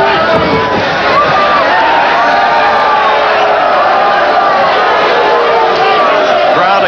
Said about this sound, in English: Crowd accuses Valdez through its boos of hitting low.